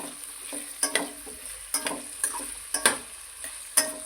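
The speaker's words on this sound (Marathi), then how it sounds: "त्यानंतर हे गाजर हे असे छान फ्राय करून घेऊ" Carrots being fried for peas pulao, a low sizzle broken by regular sharp spoon taps and scrapes against the pan, about one every second, with no voices.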